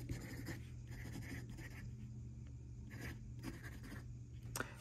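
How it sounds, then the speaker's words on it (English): Handwriting of math equations with a pen or marker, scratchy strokes in short bursts with brief pauses, steady and close with a low background hum and no speech. "I'm going to write this very sloppy because I don't feel like rewriting it all the time."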